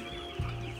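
Chickens in a brooder on a small Kenyan farm, a low guttural cluck rising out of a steady background hum, close by and fairly faint.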